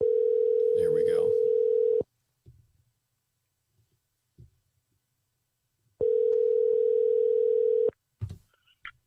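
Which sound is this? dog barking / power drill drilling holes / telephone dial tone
telephone dial tone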